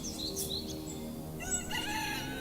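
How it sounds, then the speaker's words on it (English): A rooster crows over a steady background, its call rising and falling across a couple of seconds, moderately near. "Before the roosters crow, Sanson awoke."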